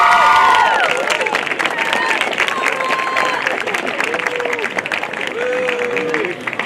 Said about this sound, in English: Please give a round of applause for Yonora Lara.